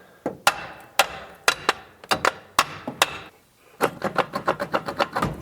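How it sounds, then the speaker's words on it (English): Sharp hammer blows on a metal part of a 1968 Dodge Coronet, a set of spaced single strikes followed by a faster run of rapid hits, loud and close. "I need a large striking device. Hammer will do."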